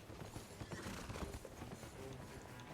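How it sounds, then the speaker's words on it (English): Hooves clip-clop in a fast, muffled gallop as a horse runs in the video game Elden Ring Nightreign, faint and steady under a low, noisy background. "Horse."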